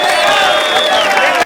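A crowd of school finalists cheers and whoops loudly and continuously to welcome the provincial governor at a college, then cuts off abruptly.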